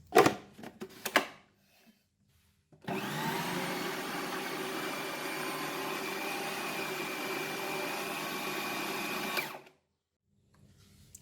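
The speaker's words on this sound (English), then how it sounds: "this is the tapioca that we have put it in the food processor" A food processor fitted with a processor blade chops tapioca, a steady loud motor whir with a grinding rattle running about seven seconds alone after a few brief clatters, then cutting off.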